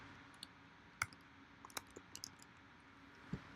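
Quiet, sparse keystrokes on a computer keyboard, a handful of sharp clicks spread irregularly over a few seconds at close range with no talk.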